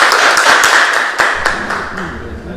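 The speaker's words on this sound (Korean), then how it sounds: "큰 박수 부탁드리겠습니다" A crowd applauds a lawyer's guest lecture at a basic income research group in Gunsan, producing dense, sustained clapping with a few sharper individual claps throughout.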